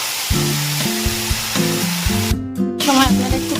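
Dried chillies, cloves, cardamom, cinnamon and cumin sizzling in hot oil, a steady close hiss running throughout beneath a tuneful melody.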